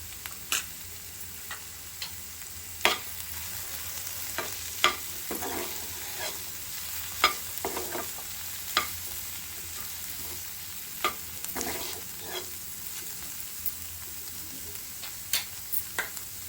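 Spices being stirred into vegetables and paneer for bhurji frying in a pan, with a constant soft sizzle and scattered scraping clicks of the spoon, close and quiet.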